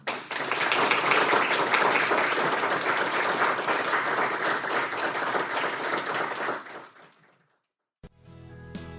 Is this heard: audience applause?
yes